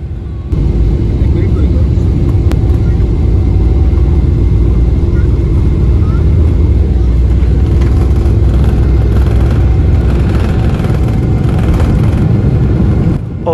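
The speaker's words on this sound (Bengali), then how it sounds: "ও টেক অফ করছে আমরা প্লেন" A Biman Bangladesh Airlines Boeing 777-300 takes off from Dhaka, heard from inside the cabin as a loud, steady engine roar and rumble that holds for many seconds, with a voice talking over it.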